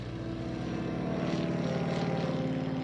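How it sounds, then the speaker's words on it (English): A steady, loud radial-engine drone from a Stearman open-cockpit biplane, with a throbbing low rumble, holding constant throughout as if recorded close to the aircraft. "It's an open cockpit, a radial engine. You have all the smells, the noises."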